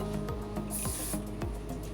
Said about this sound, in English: Giving them both a little bit of spray there with the hairspray.